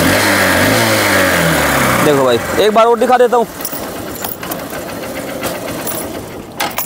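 A motorcycle with a 4-gear gearbox is push-started in second gear, its engine catching with a rough rumble amid clanks before settling into a steady idle, with someone speaking over it.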